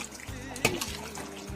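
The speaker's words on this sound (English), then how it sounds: "we're going to add enough water so that the rice is covered." Water pours into a pot of soaked raw rice, a brief splashing gush with a sharp onset that settles into a softer, steady trickle, close and fairly quiet.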